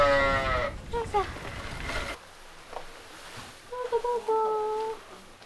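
Sheep and young lambs bleat repeatedly during a feeding of hay from purchased grass rolls on a farm in Higashikawa, Hokkaido; several clear, fairly close calls rise and fade, with a quiet gap in the middle.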